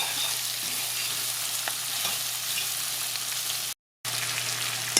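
Onions and vegetables fry in a pan with a dense, even hiss and crackle, interrupted briefly by a sudden gap of silence before the sizzle resumes, no talking.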